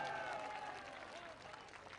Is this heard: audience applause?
yes